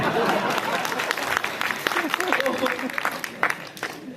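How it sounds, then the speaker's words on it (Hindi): A burst of applause from a crowd, clapping steadily for a few seconds with voices mixed in. "ये तालियां क्यों बजी है मालूम है?"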